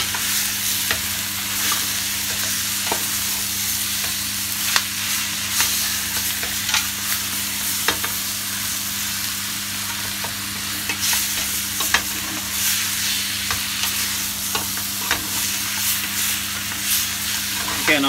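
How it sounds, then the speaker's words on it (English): Lamb ghormeh sabzi with fresh ground pepper being stirred in a pot, a steady low sizzle and simmer with spoon scrapes and clinks scattered across the whole span, close by and with no talk. "Give that a good stir and let it mix in."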